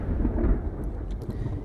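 Thunder in the video game Spiritfarer: a loud, low rumble rolling steadily over a rain-like hiss, with a few faint higher ticks near the end and no voices.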